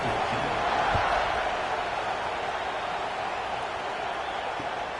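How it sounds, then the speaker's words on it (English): Stadium crowd roaring in Madden 26 as a football team sets up to kick off, a broad, steady wash of cheering noise filling the whole stretch without pause. "this crowd now ready to get behind them"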